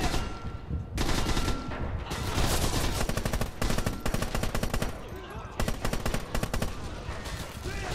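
Sustained machine gun fire in the World War II shooter Red Orchestra: Heroes of Stalingrad, loud rapid bursts with brief pauses between them, close and dominant.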